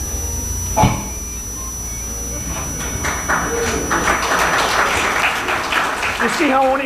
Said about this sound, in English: You see how only one side applauds?